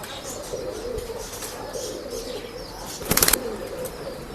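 Breeding pigeons at a pet shop in Bangalore, a soft flutter of wings with faint cooing, then a brief louder burst of flapping near the end.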